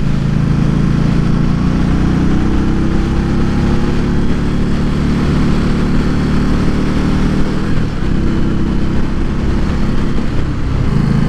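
A 2018 Indian Scout motorcycle engine on a test ride, a loud, steady low rumble with continuous wind buffeting and slight shifts in pitch as it rides.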